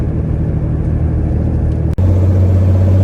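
A 1979 Chevy C-10 truck drives along with a steady, loud engine rumble, then a brief drop as it shifts gears and the engine settles into a lower, steadier drone.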